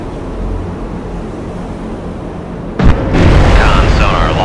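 Submarine torpedo launch in the Cold Waters naval video game: a sharp, loud thump near the three-second mark is followed by a sustained rushing roar, with a command voice heard faintly beforehand.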